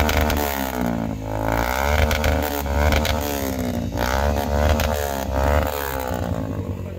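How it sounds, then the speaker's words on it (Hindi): A Yamaha R15 V3 or Suzuki Gixxer 155 motorcycle engine revs loudly and continuously, its pitch rising and falling in repeated throttle blips, close by with no talking. "अमेजिंग साउंड है इस बाइक की"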